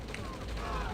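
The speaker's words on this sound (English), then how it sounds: "These artillery shells are actually doing some quite work" Artillery shells fire in a real-time strategy game as a short, rapid rattle of distant thuds and pops, fairly faint and blended with battle noise.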